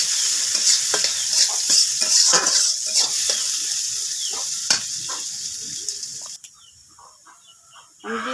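Dried chilli, chopped garlic and onion fry in hot oil with a loud, continuous sizzle and stirring scrapes up close; the hiss drops away sharply near the end.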